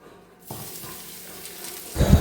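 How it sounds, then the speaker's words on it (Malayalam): Coconut oil goes into a hot pan, starting with a quiet hiss that builds into a louder, close crackling sizzle at the end, with no voices. "വെളിച്ചെണ്ണ ഒഴിക്കാം."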